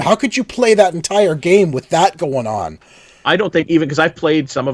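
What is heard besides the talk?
No distinct noise like a dog, phone or traffic.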